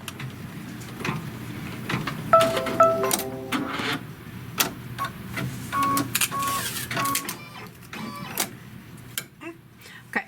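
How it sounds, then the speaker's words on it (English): A Kimberbell embroidery machine threaded with yellow thread stitches a placement line for flex foam, a rapid mechanical whirring with ticking needle strikes and brief motor whines, heard close under a voice. "it's going to stitch the placement line for the piece of flex foam"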